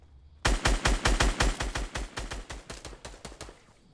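Rapid gunfire in the Fortnite video game, about twenty sharp, close shots in a steady fast rhythm, each with a deep thump, gradually softening toward the end.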